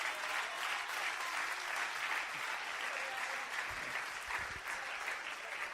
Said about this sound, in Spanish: Denle una alabanza y un aplauso bien grande a Cristo y yo sigo.